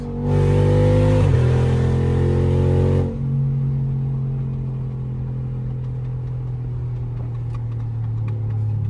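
A tuned Dodge SRT Hellcat cruising on a highway: a loud, deep engine roar swells for about three seconds, then eases into a steady, rumbling drone that continues alone.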